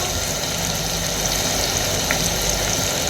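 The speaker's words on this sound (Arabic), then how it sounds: "حطينا زيت وبصل." Onion sizzling in hot oil in a pot at the start of a rice dish, a steady, dense frying hiss that runs unbroken and fairly loud throughout, with no voices.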